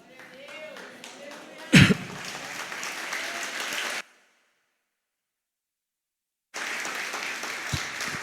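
A church congregation bursts into applause during a Portuguese-language sermon, a dense roomful of clapping that runs steadily for a couple of seconds, cuts out, then returns, with a sharp thump near the start.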